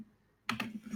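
A few quick keystrokes on a computer keyboard break a near-silent pause, making a short, soft burst of clicks.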